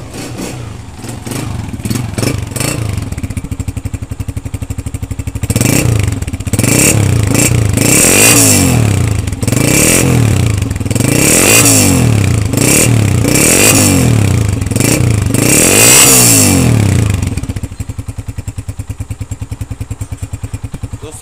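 A restored 2013 Honda CG125 motorcycle engine starts up with a clatter, then revs loudly in repeated rising and falling bursts before dropping back to a rough idle.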